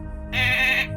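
A person's voice imitates a goat bleating in a guessing game, giving one short, nasal, wavering bleat, close and clear, lasting well under a second.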